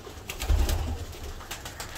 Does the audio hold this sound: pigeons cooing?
yes